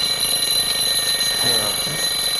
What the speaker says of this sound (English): The ringing of an alarm clock is usually antithetical to dreams.